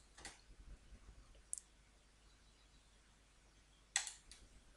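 A few sharp, isolated mouse clicks on a computer while working in QlikView, spaced seconds apart and close by against a quiet background.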